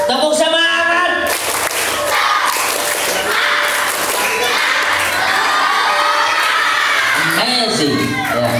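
Children at a Ramadan Islamic boarding-school program burst into a loud, spirited group clapping chant, rhythmic claps mixed with shouting, cheering and whoops; a voice speaks briefly at the start and end.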